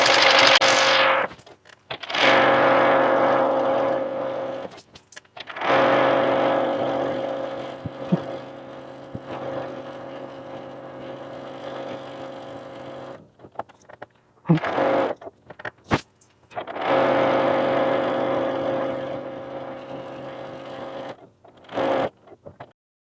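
A sewing machine stitches a quilt border seam in several bursts of steady, rapid whirring, stopping and starting for short back tacks, close and fairly loud with brief pauses between runs.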